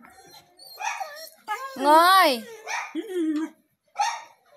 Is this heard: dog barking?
yes